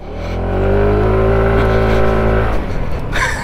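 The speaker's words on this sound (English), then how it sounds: "Who said you couldn't have fun with a little 125cc scooter off-road?" A SYM ADX 125cc scooter riding off-road, its small engine droning loud and close with steady harmonics that hold, then break off into rougher bumpy noise near the end.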